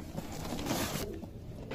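A teddy pigeon, a crossbred bird, coos softly and close, a low burbling call lasting under two seconds against faint background noise.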